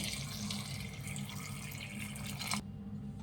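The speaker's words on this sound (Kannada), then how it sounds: "ಒಂದು ಮುಕ್ಕಾಲು ಲೀಟ್ರಷ್ಟು ನೀರು ಹಾಕ್ತಾ ಇದ್ದೀನಿ" About 1.75 litres of water pours steadily into a pressure cooker, a continuous splashing rush that stops abruptly near the end, fairly close and quiet.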